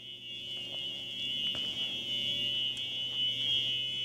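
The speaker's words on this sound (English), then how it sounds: "Just hearing the alarm buzzing." An alarm buzzes continuously in an empty mall, a steady high-pitched electronic tone that never breaks, with faint room noise and a few small knocks underneath.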